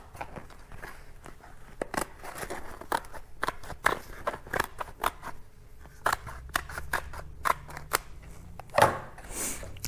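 Scissors trim around glitter heat transfer vinyl, giving close, crisp snips and crunchy cuts in an irregular series, with light handling rustle between cuts and no talk.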